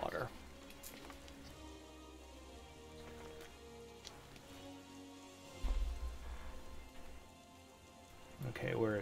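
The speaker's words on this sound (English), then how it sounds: "Everywhere I go in this game, it's raining." Steady rain falls in the Final Fantasy XIV game world as a continuous hiss of drops on surfaces, with game music underneath and a few louder splashes near the end.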